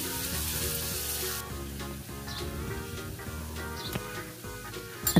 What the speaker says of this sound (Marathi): आपण एक कांदा कापून घेतला होता बारीक, तो तेलात टाकून घेऊ